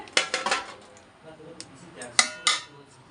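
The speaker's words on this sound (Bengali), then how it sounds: "এইভাবে হাঁড়িটা আমি এবারে বসিয়ে দিলাম" A cooking pot of finished biryani is set down on a stove, giving a few close, sharp metallic clanks and knocks in two short clusters with quiet pauses between.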